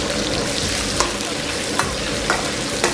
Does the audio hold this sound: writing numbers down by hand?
no